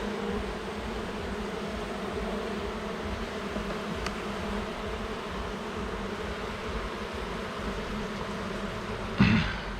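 Honeybees on a hive frame during an inspection of a nucleus colony with emerged queen cells, a steady dense buzzing that continues throughout, with a brief louder knock near the end.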